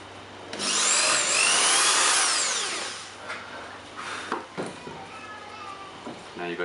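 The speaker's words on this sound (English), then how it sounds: "and just get the drill here." An electric drill boring an 8mm dowel hole into a wooden workpiece, with a loud sustained whine for about three seconds that rises and falls, followed by quieter handling knocks and scraping.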